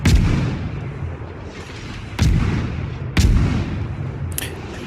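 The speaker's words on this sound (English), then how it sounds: "I decide it's a good idea to open fire on them" World of Warships destroyer Kidd firing its naval guns in a game battle: three heavy, sharp salvos about a second apart, each booming and then decaying into a rumbling tail, loud and close with no speech.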